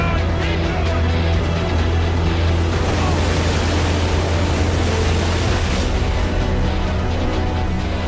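Heavy six-foot seas roll off the Normandy coast three miles from shore, a dense, unbroken roar of surging water with a deep low rumble throughout.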